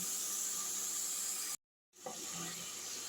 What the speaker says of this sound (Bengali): একটু জলের সঙ্গে মশলাটা আমি নাড়াচাড়া করছি, তাহলে মশলাটা খুব সুন্দর করে কষা হয়ে যাবে।